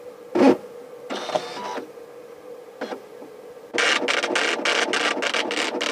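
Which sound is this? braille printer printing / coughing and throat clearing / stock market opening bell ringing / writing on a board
braille printer printing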